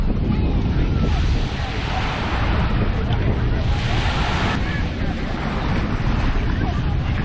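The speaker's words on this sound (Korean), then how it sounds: "이날 바람이 강했는데" Strong wind buffets the microphone at sea off Bali during a windsurfing lesson, with waves churning underneath in a continuous loud roar that surges and eases slightly throughout.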